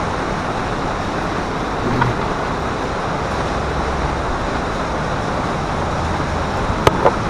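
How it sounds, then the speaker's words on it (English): Sudden hard rain pours down in a dense, steady broadband roar with no gaps, loud and close, broken only by a couple of faint knocks near the end. "Coming a hard rain all of a sudden."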